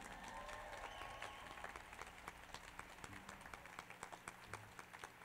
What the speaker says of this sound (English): sa Benvenuti is here tonight and Aaron Sove, let's give them a round of applause too.